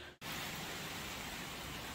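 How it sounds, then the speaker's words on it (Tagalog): Heavy rain with wind outside during a stormy day in the Philippines, a dense continuous hiss after a brief dropout at the start, steady and fairly loud with no voices. "Sobrang lakas pa ng ulan, guys. Tsaka hangin."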